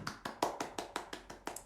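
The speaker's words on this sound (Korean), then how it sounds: "박수!" Brisk hand clapping, about nine sharp, evenly spaced claps from a small group or a single person, close and clear with no talking.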